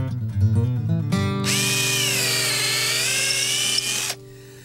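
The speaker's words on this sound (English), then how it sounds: "when it comes to boring holes, there's nothing like the cordless drill." A cordless drill whirs up to speed and holds a loud, steady run for about three seconds before stopping abruptly, with some handling noise at the start and no talk.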